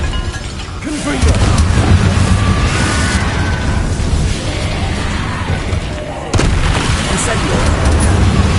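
Loud, dense bursts of magical blasting from the Confringo spell in Hogwarts Legacy, booming explosions rolling continuously with a fresh sharp blast near the end, game combat noise throughout.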